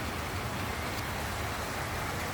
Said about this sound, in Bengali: আমি বৃষ্টি উপভোগ করতেছি, খুব সুন্দর ঠান্ডা ঠান্ডা আবহাওয়া।